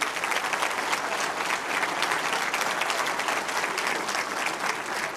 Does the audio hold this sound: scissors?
no